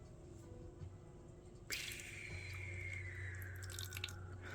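Hand-rolled jade pillar white tea poured over a small ceramic alligator tea pet, a close liquid splash and trickle that begins abruptly partway through and runs steadily to the end.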